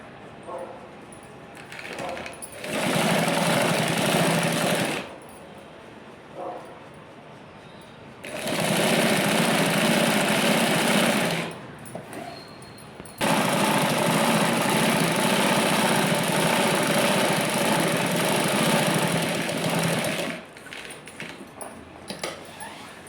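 Sewing machine stitching fabric pieces together in three long, steady, loud bursts of rapid mechanical whirring, separated by pauses with soft handling sounds and brief speech.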